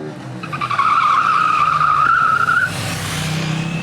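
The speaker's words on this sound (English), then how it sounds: "The feature I use to slide the bike is known as Supermoto ABS." A KTM 890 Duke motorcycle slides under hard braking with Supermoto ABS, giving a loud, sustained tire squeal over engine noise that fades into a lower rumble.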